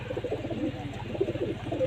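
Pigeons cooing softly at close range in a loft where a pair is nesting on eggs, low repeated throaty coos in a steady rhythm.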